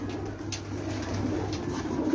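Pigeons coo in a low, steady rumble throughout, close by, likely in a rooftop loft of champion fancy pigeons, with no talk over them.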